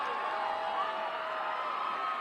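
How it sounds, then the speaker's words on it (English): A boys' state finals basketball crowd backing Conway roars in a steady, dense wash of cheering and shouting that holds at one level without a break. "you can hear the crowd for Conway just getting into the game"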